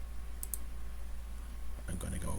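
Mouse clicks sound while drawing in FreeCAD: two quick close clicks, a pause over a steady low hum, then a busier run of clicks and taps near the end.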